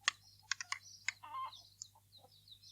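A chicken in an audio play clucks in short, sharp bursts, a quick run of close, distinct clucks followed by softer scattered ones.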